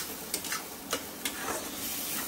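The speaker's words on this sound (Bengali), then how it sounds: "না এটা টালতে টালতে একদম কড়াই থেকে ছেড়ে আসবে।" Noodles are stirred in a frying pan (karahi) with a steady background sizzle, punctuated by a few brief scraping clicks of the spatula, quiet and close, with no talking.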